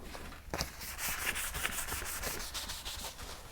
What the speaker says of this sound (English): But I'm just going to give this a wipe like that